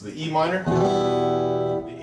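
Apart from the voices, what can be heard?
None of the usual background noises is heard.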